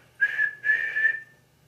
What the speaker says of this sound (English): And he blew an angry peep,